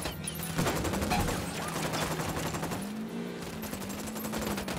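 Rapid automatic gunfire from a squad opening up in the tactical shooter Ghost Recon Wildlands, sustained bursts rattling continuously over a dense game soundscape, loud and close throughout.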